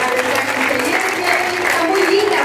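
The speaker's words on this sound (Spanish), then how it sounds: "un fuerte aplauso nuevamente para Maya." Guests applaud at a quinceañera party, a loud, dense burst of clapping from a crowd held steady for a few seconds, with some voices mixed in underneath.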